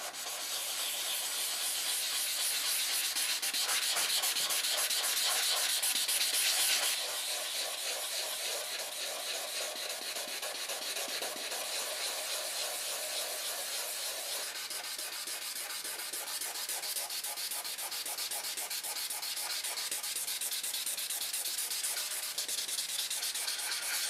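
Continuous dry scratching of 600-grit abrasive paper rubbing down the lacquered top of an ES-335-style guitar body, steady back-and-forth strokes close up with no talking.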